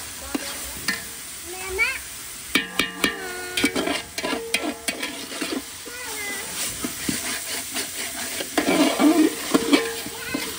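Chicken mix biryani is stirred in a pot over a wood-fired chulha, with repeated scraping and clanking strokes over a steady sizzle, close by, while a voice speaks intermittently.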